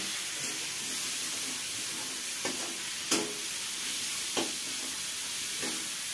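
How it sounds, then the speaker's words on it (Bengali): A spoon stirs a tomato mixture in a frying pan over a constant sizzling hiss, with a few soft scrapes and taps against the pan at irregular intervals, close and without talking. "সামান্য পরিমাণে একটু মিক্স করে দিচ্ছি।"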